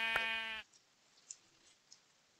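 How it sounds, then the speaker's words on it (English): A single bleat from a sheep in the video game Minecraft, short and fairly loud, followed by near silence with a few faint clicks. "Oh, look, there's a sheep."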